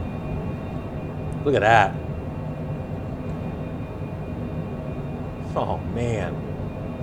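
A steady aircraft roar fills the cockpit during a high-speed night landing on runway 10 at El Alto airport, La Paz, Bolivia, while someone speaks briefly twice.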